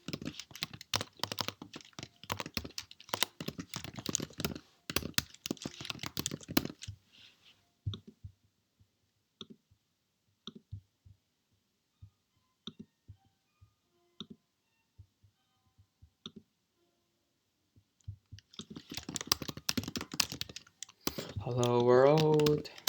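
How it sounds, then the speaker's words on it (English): Keys clatter on a computer keyboard during a JavaScript coding session, in scattered, sparse bursts between stretches of talk, with a brief rising voice or tone near the end. "Usually I don't have to type everything, but this time I do"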